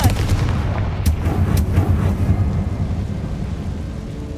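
A Confringo fire spell explosion in Hogwarts Legacy, a series of booming, rumbling blasts with sharp cracks rolling continuously through the scene, loud and dense with no talking.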